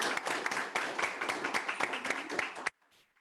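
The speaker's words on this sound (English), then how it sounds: "please help me give a warm round of applause to Aaron Bowman" A graduation audience gives a round of applause for speaker Aaron Bowman: a small crowd of distinct, sharp claps at a moderate level, stopping abruptly near the end, followed by brief quiet.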